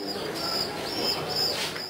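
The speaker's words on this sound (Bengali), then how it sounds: "বাড়ির উঠান বা ছাদের ছোট্ট ঘরেই থাকছে নোটন, Jacobin, white king, yellow king সহ নানা জাতের কবুতর।" Pigeons of breeds such as Jacobin, White King and Yellow King cooing in a soft, repeated rhythm, with the calls rising and falling over a steady background hum.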